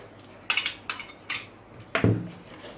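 A spoon clinking against a bowl as sugar is added for coleslaw, a few light metallic taps and scrapes in quick succession, close and fairly quiet, no talk.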